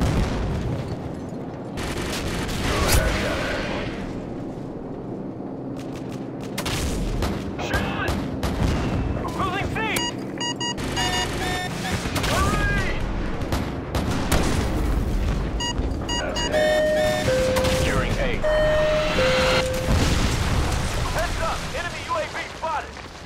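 AC-130 gunship fire in Call of Duty: Modern Warfare 2, heavy booming cannon shots and explosions under continuous game radio chatter and tonal interface beeps, dense and loud throughout.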